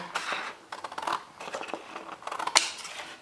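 Scissors snip off the pointed tip of a paper envelope for a scrapbooking project, producing several close, crisp cutting crunches in short bursts with a sharp metallic click near the end.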